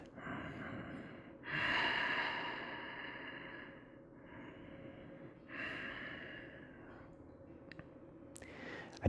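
Slow, deep breathing while lying in relaxation at the end of a yoga class, long audible inhales and exhales close to the microphone in a quiet room, ending with a faint click.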